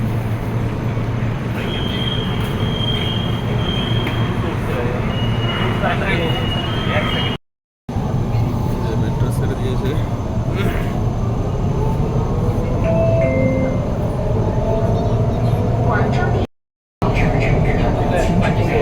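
A Wuhan metro train runs along, a steady loud rumble with rising and falling whines, heard from aboard amid people talking.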